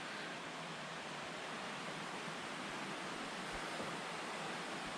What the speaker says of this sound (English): The unnamed river.